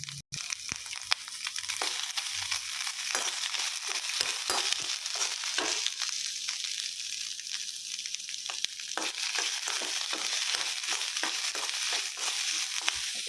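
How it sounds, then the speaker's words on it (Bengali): Paneer cubes fry lightly in a pan with a continuous crackling sizzle, punctuated by sharper pops and scraping stirs, close and moderately loud with no talking. "হালকা ভাজা হোক"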